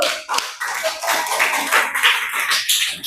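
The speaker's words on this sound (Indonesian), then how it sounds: "Ayo ke depan, kasih tepuk tangan dulu." A classroom of students claps together for a classmate stepping up to the front, a dense, steady patter of many hands lasting about three seconds with little talk.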